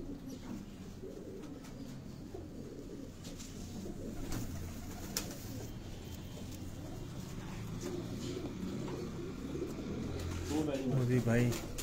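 Pigeons cooing on a rooftop loft, soft repeated coos with a few chirps against outdoor background noise, while people talk nearby.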